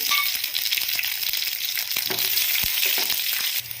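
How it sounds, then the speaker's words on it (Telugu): Slit green chillies and a bay leaf fry in hot oil, crackling and sizzling loudly and close, with scattered sharp pops over a continuous hiss and no talk. "ఆయిల్ కొంచెం వేడెక్కిన తర్వాత బిర్యానీ ఆకుని యాడ్ చేసుకొని అందులోకి 4 పచ్చిమిర్చిని ఇలా చిలికలా చేసి వేస్తున్నాను"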